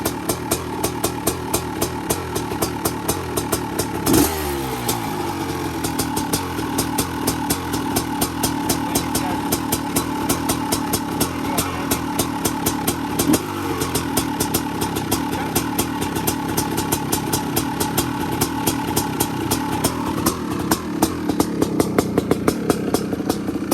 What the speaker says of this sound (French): quand tu commences à entendre le piston qui cogne